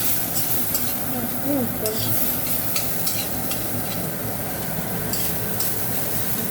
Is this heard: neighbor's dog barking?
no